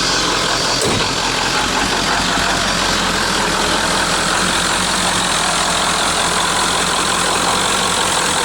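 A 1996 Ford F-350 dually with the Powerstroke direct-injection diesel idles with a slightly uneven, rough rumble, close and steady throughout, with a brief knock near the start.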